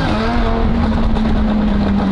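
Supercharged Lamborghini engine with a grinding fault, a loud close mechanical drone with a steady whining tone running underneath the rumble, sustained without pause.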